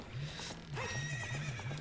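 Horse neigh from Ocarina of Time, a wavering whinny that repeats in rising and falling swells across the clip at steady moderate loudness, with no talk over it.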